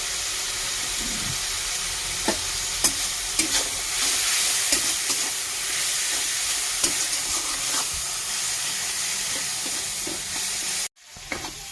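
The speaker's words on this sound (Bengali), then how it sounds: "এই যে মশলাগুলো ভালো করে আমার ভাজা হয়ে গেছে, এই পেঁয়াজটা একদম গলে গেছে।" Onions and spices, with cumin-coriander powder and salt, frying in a pan, a steady loud sizzle with repeated sharp scrapes and clacks of stirring, no talk, ending in a brief cut to silence.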